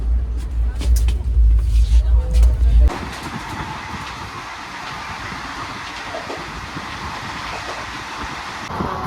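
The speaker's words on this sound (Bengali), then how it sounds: "ট্রেন আমাদের দারুণ দৌড়াচ্ছে" Tista Torsa Express train running fast between New Jalpaiguri and Sealdah, old coaches rumbling and rattling with a heavy low-frequency jolt at first, then a steady loud rushing clatter continuing for several seconds.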